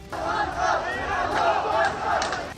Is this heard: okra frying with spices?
no